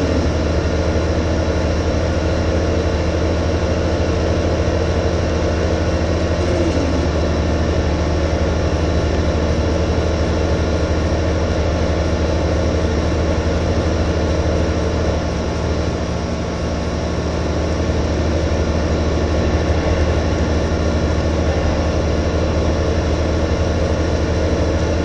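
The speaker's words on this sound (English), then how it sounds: "Gotta beat the train that's coming." A low, steady engine rumble fills the whole stretch with little change in level, like a heavy train drawing near in Farming Simulator 2015. No voices are heard.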